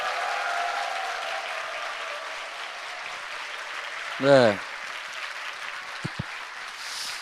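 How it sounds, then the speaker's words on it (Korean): A crowd gathered in a church applauds to welcome the Seongnam mayor to his lecture, a steady wash of clapping that fades before someone speaks briefly. "힘찬 박수 부탁드리겠습니다"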